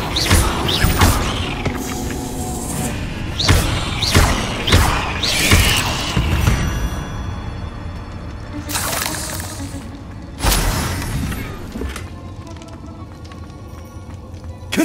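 Bombarda and Confringo explosion spells cast in a cave in the Hogwarts Legacy video game: several sharp bursts and heavy booms with crashing debris and rumbling, loud at first, then a quieter stretch broken by another blast.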